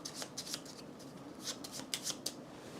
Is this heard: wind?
no